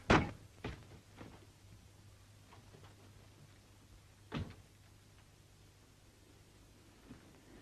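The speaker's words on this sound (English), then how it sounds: "I'll knock, and if there's no answer, we can go away, can't we?" A few dull thuds on a door in a 1938 comedy film scene, a sharp knock at the start, another soon after and a single firmer one midway, each brief and separated by quiet room tone with a steady low hum.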